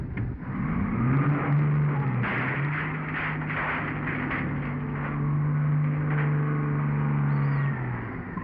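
A truck's engine revving and pulling away in a 1930s-era action film scene, a loud steady motor drone that rises and holds with rumbling texture throughout.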